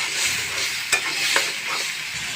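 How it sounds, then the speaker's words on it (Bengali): Potatoes and shrimp fry and get stirred in a pan for a ridge gourd curry. A steady close sizzle runs throughout, with two sharp scrape accents from stirring and no voices. "আলুগুলো দিয়ে আমি 2 মিনিট মতন কষাইছি।"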